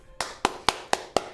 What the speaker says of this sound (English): Claps! Everyone cheer for yourselves!